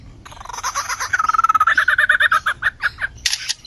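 An Australian lyrebird mimics a camera shutter with a rapid run of sharp, clicking, whirring chirps, close and loud, ending in a brief bright burst.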